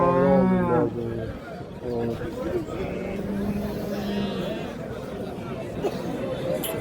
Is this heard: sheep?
yes